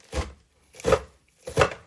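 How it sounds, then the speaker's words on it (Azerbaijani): Knife chopping food for cincilim ketesi, a dish with salted cheese, three crisp separate thuds on a cutting board at an even, unhurried pace, close and clear with no talk. "Beləcə doğrayacağım bunu."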